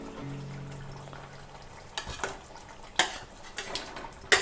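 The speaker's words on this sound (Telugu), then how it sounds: "ఇప్పుడు దీంట్లో మనము ఆయిల్లో వేయించి పెట్టుకున్న ఎగ్ ముక్కలను వేసుకుందాము" Fried egg pieces tipped into simmering gravy for egg masala curry, with soft sizzling followed by several sharp spoon clinks and scrapes against the pan as the mixture is stirred, close and moderately loud.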